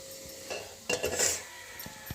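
A wok set down on a kitchen stove, giving a loud metallic clank and rattle near the middle, with lighter clinks of cookware before and after; no one speaks.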